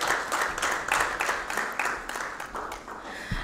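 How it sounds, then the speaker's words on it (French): Applause from a panel audience in a conference hall, a steady crowd of hands clapping throughout at moderate loudness, with no talking over it. "j'aimerais que vous vous applaudissiez"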